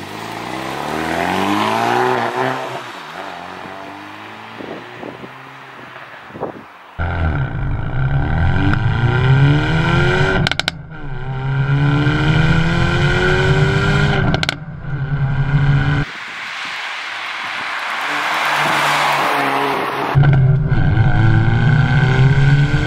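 A Hyundai i30N accelerates hard from a launch, its engine note loud and close as it climbs through rising revs. Several abrupt gear changes break up the pulls, and no one speaks.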